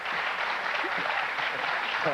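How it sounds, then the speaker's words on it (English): A brief patter of polite golf-style clapping from a live show audience, even and moderately loud throughout, with a voice cutting in at the very end. "Golf clap."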